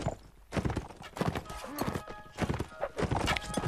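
Horse hooves clip-clopping in the Mount and Blade: Warband multiplayer battle game, a quick rhythmic run of close hoof hits with a brief whinny, mixed under game noise and voices.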